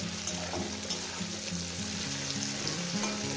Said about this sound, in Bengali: এটা আমি চার পাঁচ মিনিট ধরে ভেজে নেব